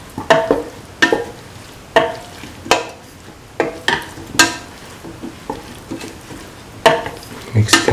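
Potato and bottle gourd stew with garam masala being stirred in a pan: a spoon scrapes and sloshes through the thick mixture in repeated, irregular strokes, close and clear, with no talking.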